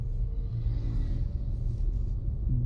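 Cars approach from the left on a road, a low steady rumble of passing traffic heard at moderate distance, faint and continuous with no talk.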